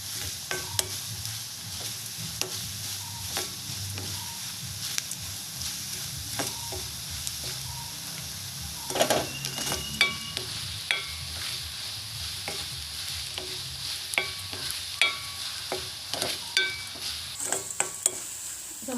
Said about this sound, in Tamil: இப்போ மிளகாய் வந்து பொரிஞ்சிட்டுது.